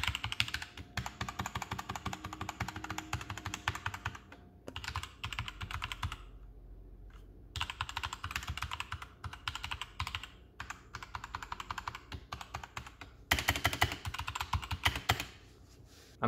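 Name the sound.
forceful typing on mechanical keyboard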